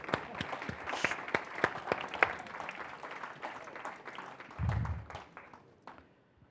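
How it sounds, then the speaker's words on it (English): An audience claps at a university teaching awards ceremony, with sustained, moderately loud applause made of many distinct hand claps that thins out near the end, plus a brief low thump midway. "And we'll clap"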